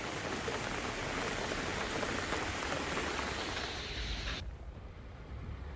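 Heavy monsoon rain falls outdoors in Gujarat, a dense, even roar of drops with no voices, easing slightly toward the end.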